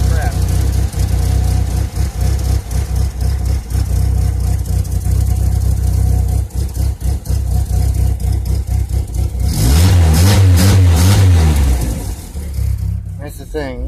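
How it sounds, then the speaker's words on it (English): Chevrolet Cavalier with a rough idle revs up steadily and strongly near the listener, its engine note rising and falling loud beneath someone talking over it. "That's the thing. It'll rev fine."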